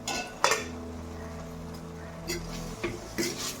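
Banana stem thoran stirred in a pan after covered cooking, with metal clinks and scrapes of the spoon against the pan over a steady low kitchen hum.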